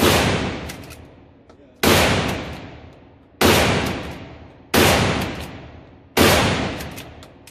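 A 12 gauge Mossberg 500 pump shotgun firing slugs and buckshot outdoors, with five loud, close blasts spaced about a second and a half apart, each ringing out and decaying before the next.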